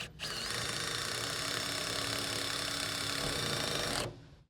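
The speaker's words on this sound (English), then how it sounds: "Once I start and this bit begins to bite, we don't want to over torque it." Power drill driving a self-tapping screw into an RS composite utility pole, a steady high motor whine held for about four seconds before stopping abruptly, close and fairly loud.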